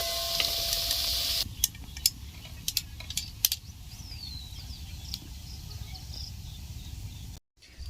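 Semolina and potato snacks deep frying in hot oil, a soft steady sizzle under several sharp utensil clinks and knocks against the pan early on.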